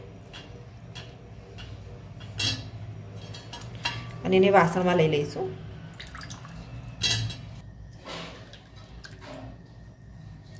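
Syrup-soaked angoor (small rasgulla) pieces squeezed by hand so liquid drips into a vessel: soft patters and light clinks of utensils, heard under someone speaking.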